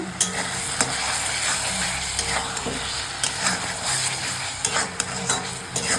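Hing (asafoetida) dropped into a hot pan while jackfruit cooks, giving a steady loud sizzle of frying with scattered scraping and stirring clicks of a utensil against the pan, close up and without speech.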